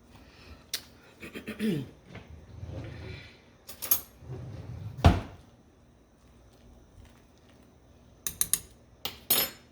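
Dumplings dropped into a pot of chicken and biscuit dumpling soup, with soft thuds and stirring, plus sharp metallic clanks of a utensil against the pot, irregular and close, some clustered at the end.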